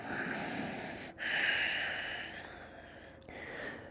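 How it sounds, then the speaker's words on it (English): Steady audible breathing during a yoga practice on triangle pose, soft airy inhales and exhales close to the ear. A sharper breath comes in near the middle, and the sound stays low and continuous with no talking. "Breath audible here."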